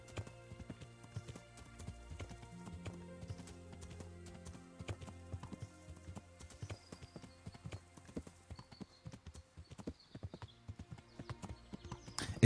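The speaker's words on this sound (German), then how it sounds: "Wir reiten die ganze Zeit querfeldein." A horse's hooves clip-clop steadily while ridden cross-country in Kingdom Come: Deliverance, with an even rhythmic gait, fairly close but soft, and a faint whinny along the way.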